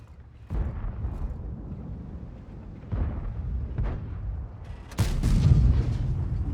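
Tank cannons fire in a World of Tanks battle: three heavy, booming shots spaced a couple of seconds apart, each followed by a low rumbling tail over continuous engine and battle noise.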